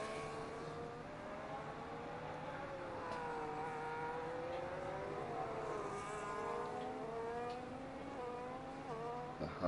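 A racing car in a sim racing game rounds the final corner of the Hungary circuit, its engine note rising and falling steadily through gear changes, a continuous mid-level drone with no talk.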